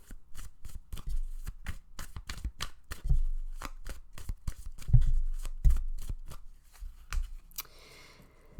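Tarot cards being shuffled for a reading, a rapid run of crisp, close riffling slaps and flicks with a few heavier thumps, heard alone with no talk over it.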